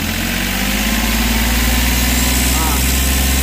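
Diesel engine of a Hyundai Xcent with a pickup fault and a burst pipe, running loud and steady at close range with a deep low rumble throughout, and voices talking over it.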